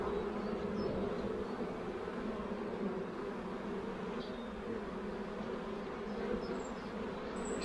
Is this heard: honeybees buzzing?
yes